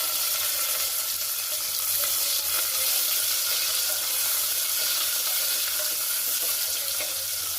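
Onions and curry leaves frying in a pan for a cabbage masala curry, a steady close sizzle and crackle that holds evenly throughout with no talking.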